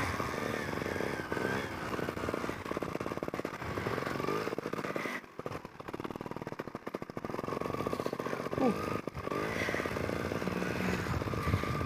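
A dirt bike or trials motorcycle engine running on a wooded trail, revving and bogging with uneven throttle bursts, fairly close, with a brief drop near the middle.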